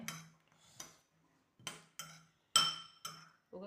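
Metal spoon clinking against a bowl while chili powder is stirred into pickled baby mangoes, a sparse series of sharp, bright taps at uneven intervals with quiet gaps between.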